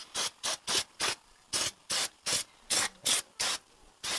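Clutch cleaner sprayed from an aerosol can onto a VW T5/T6 brake caliper being prepared for painting: about eleven short, close hissing bursts in a fairly steady rhythm, with quiet pauses between them and no talking.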